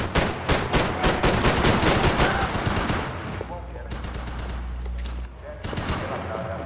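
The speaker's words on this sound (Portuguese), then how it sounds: "a arma do cara tá atirando sozinho" Rapid, sustained automatic gunfire from a weapon in Max Payne 3, loud and dense bursts for about three seconds, then fading into a lower rumble with scattered shots and a voice talking underneath.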